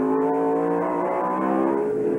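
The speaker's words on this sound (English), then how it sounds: "within shouting distance of the finish here for Mike Skinner" A racing truck engine roars loudly at sustained high revs as Mike Skinner nears the finish on the 1.8-mile course at Heartland Park, Topeka, a continuous close drone with no voices.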